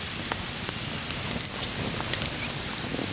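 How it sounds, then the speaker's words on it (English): Rain falls around a camping canopy at an Indiana campsite, a soft continuous patter with scattered sharper drops tapping nearby, fairly faint and with no voices. "I don't feel any rain at all, really. You can hear it though."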